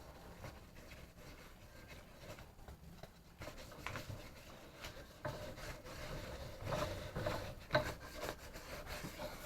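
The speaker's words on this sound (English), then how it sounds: "I'll give this a light sand." Light hand sanding of a coaster between finish coats, a soft steady rubbing rasp with repeated strokes, fairly quiet and close, with no talk over it.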